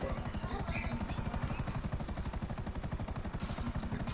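A helicopter in GTA 5 Online gives a loud, steady rhythmic rotor thump with a buzzing whine above it, constant throughout, with no voices.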